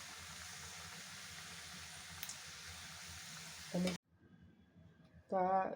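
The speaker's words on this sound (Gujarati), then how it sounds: "તમે જોઈ શકો છો કચોરી મેં તરી લીધી છે" Lilva kachori fry gently in oil over a low flame, giving a soft, steady sizzle with a few brief louder bursts near the end.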